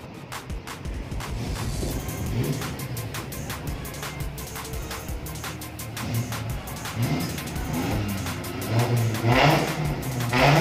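A pickup truck engine roars and revs at a slalom event in Bali, loud and rough with rising and falling throttle, heard outdoors over crowd and ambient noise.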